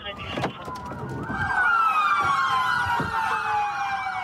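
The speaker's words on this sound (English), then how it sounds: "A lot of police cars." Several Miami police cars with wailing sirens, rising and falling loudly and close by, over a background of traffic and faint voices.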